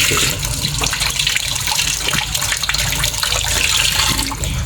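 Apples are washed under a running tap, with a loud, steady rush of water splashing continuously throughout.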